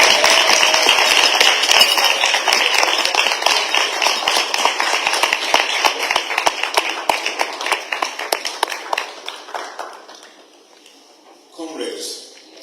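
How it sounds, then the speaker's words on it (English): Clapping from a convention crowd, dense and loud at first, then thinning into scattered claps before dying away, with a brief voice near the end. "Let's clap for them"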